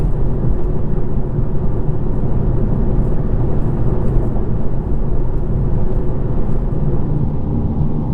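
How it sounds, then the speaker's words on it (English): Continuous low rumbling road noise from inside a car on a rough surface, steady and loud with no voices. "Here is the sound of the road noise by itself."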